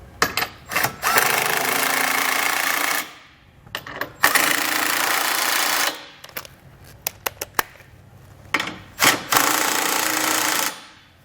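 Impact gun driving trailer hitch bolts with a 19mm socket on a 2018 Honda, loud repeated bursts of rapid hammering several seconds long, separated by short pauses and quick clicky blips.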